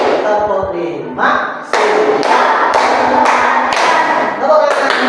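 A school class of children clapping in a counted rhythm, bursts of claps building from one to five in sequence, loud and close with voices mixed in.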